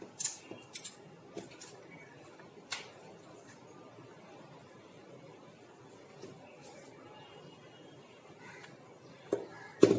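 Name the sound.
scissors cutting paper circles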